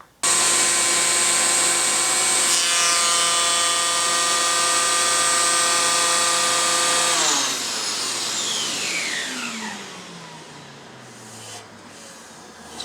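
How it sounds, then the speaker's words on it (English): A Festool HL850 electric planer screams at full depth of cut through hard end grain, a loud sustained high whine for about seven seconds before the motor spins down in a falling tone and fades out. "We're going to try it out on planing some end grain, which is extremely hard to do."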